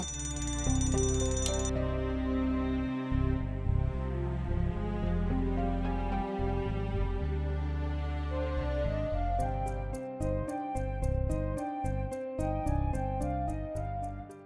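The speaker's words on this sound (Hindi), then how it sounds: "प्लीज अपना अलार्म बंद करो।" An alarm clock ringing in a bedroom, a loud, continuous electronic tone pattern that runs steadily and ends in a quick series of rapid repeated beeps.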